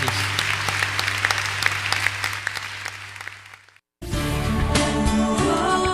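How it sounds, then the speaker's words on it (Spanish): A congregation's sustained applause for Jesus at a Catholic gathering fills the first few seconds, then fades out. A burst of music follows. "Un fuerte aplauso para Jesús."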